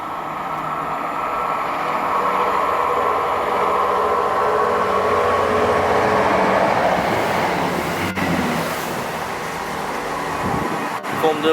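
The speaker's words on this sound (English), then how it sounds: "About to come through now is 1 F09 running a Cardiff Central to Portsmouth Harbour service." Class 166 diesel train on a Cardiff Central to Portsmouth Harbour service passes through Keynsham station, a loud rising rumble and rattle of wheels that swells, peaks and fades, with two sharp clunks near the end.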